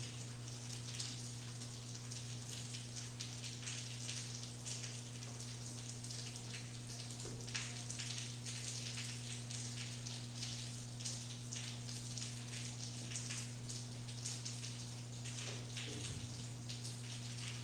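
Steady rain falling on a surface, a soft continuous patter with scattered drops, heard alone over a low constant electrical hum.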